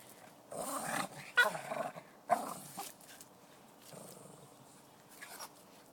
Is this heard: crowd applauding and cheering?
no